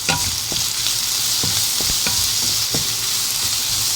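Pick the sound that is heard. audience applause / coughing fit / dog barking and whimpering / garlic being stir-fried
garlic being stir-fried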